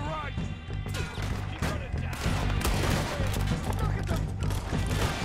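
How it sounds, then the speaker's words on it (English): Rapid gunfire from weapons shot from the hip in the Red Dead Redemption 2 video game: dense bursts of shots and cracks layered over a steady, loud game soundtrack. "Fire weapons from the hip."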